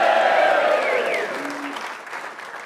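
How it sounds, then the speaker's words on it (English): A crowd of Hull FC fans at a fans' forum cheers and claps in a dense, steady wash. It starts loud and tapers off gradually over a few seconds. "Give us another cheer,"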